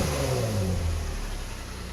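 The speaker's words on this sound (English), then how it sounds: "The truck is running right now." A flood-damaged Ram truck's engine runs steadily at a low, even drone, with a slight rise and settling in pitch, close by and without any voices.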